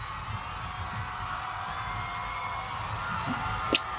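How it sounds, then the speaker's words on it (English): A distant crowd cheers along the National Mall at Barack Obama's 2009 inauguration, a faint steady roar of voices with low rumble and a brief sharp sound near the end. "what you're hearing in the background is the crowd in the mall"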